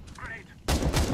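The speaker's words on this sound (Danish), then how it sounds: "Han bliver skudt igennem af en autosniper" A burst of gunfire erupts partway through in the video game Overwatch, a dense loud volley that follows a quieter stretch of game sounds.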